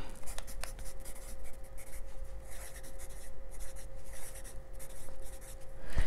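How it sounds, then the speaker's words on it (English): Pen scratching steadily across paper while something is written down, a quiet, continuous rubbing scrawl with brief pauses, heard close and alone. "I gotta write down"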